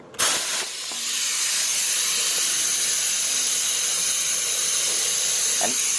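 An oil extractor sucking oil out of a John Deere Z335E mower, starting with a short clunk and then settling into a steady, loud hissing suction that runs unbroken to the end, with a faint click near the finish.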